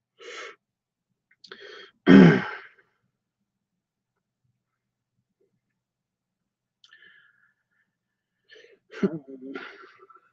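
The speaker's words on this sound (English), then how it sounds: "Yawn." A person yawns with breathy, gasping bursts at close range, separated by long stretches of near silence.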